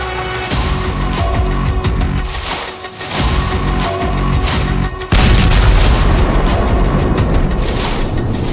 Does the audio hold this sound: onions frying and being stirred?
no